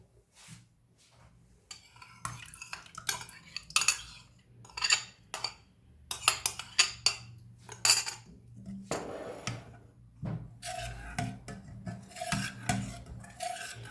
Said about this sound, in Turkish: Güzelce karıştırdım.